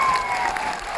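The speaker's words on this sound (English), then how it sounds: "Can we please give them all a big round of applause?" An audience claps for the show's crew at Butlins Bognor, a brief burst of dense, steady applause from a crowd.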